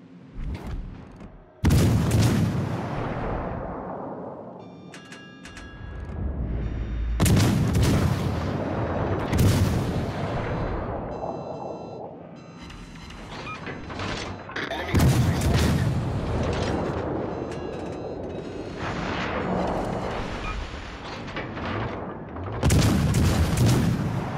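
Heavy artillery booms repeatedly in a war video game, each loud blast followed by a long rumbling decay, with the barrages recurring every few seconds and no voices over them.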